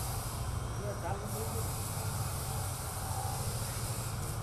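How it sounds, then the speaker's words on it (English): A mini steam engine in a small steam power plant hisses steadily as exhaust steam escapes, a constant broadband rush that stays even and fairly quiet throughout. "steam will be exhausted from here"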